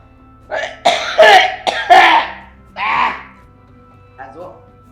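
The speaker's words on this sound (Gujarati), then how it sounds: "આ ખાંસી બહુ થઈ ગઈ છે" A person gives a few harsh throat-clearing coughs in quick succession, close and loud, followed by a softer cough after a short pause.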